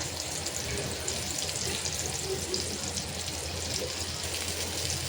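Stuffed mackerel frying in hot oil, a steady, moderately loud crackling sizzle that holds evenly without pause.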